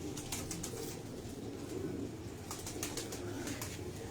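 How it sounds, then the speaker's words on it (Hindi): Released Sindhi pigeons coo softly with bursts of wing flapping, set against a steady background hum and faint, close, rather quiet activity. "ये हमारे सिंधी कबूतर हैं वैसे"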